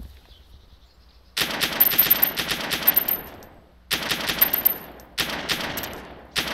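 Bursts of automatic gunfire in the survival game DayZ, three separate volleys of rapid shots, loud and close, each trailing off with a ringing decay.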